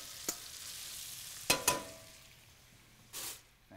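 Egg noodles sautéing in butter and olive oil in a pan give off a few soft, scattered crackles and pops, then a short swell of hiss, all fairly quiet with no voices.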